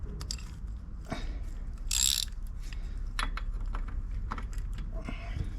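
A ratchet tool clicks in short, uneven bursts while a bolt on a Saracen is tightened, with a brief metallic rasp partway through and light handling knocks nearby.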